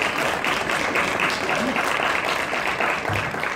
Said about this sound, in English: Let's give both of our panelists a round of applause.